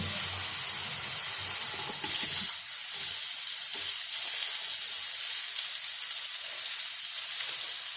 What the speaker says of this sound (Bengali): এবার কিন্তু আমি এর মধ্যে দিয়ে দেবো পেঁয়াজ কুচি